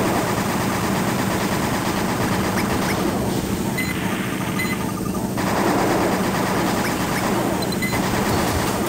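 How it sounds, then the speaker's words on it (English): A mech's chain gun firing nonstop in Armored Core: Project Phantasma, a loud, dense, unbroken rattle of rapid shots sustained for nine seconds, layered with mechanical hum and game effects. "I'm burning a bit of money by lighting these guys up with the chain gun"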